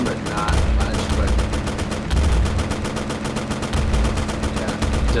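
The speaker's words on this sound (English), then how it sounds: "the machine gun's doing some damage to him, but not much" Machine gun firing at an enemy tank in a tank video game, a continuous rapid rattle of shots with bursts of low booming rumble, loud and steady throughout.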